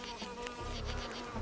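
A solitary leafcutter bee buzzes steadily and close by, a continuous insect drone with no talk over it.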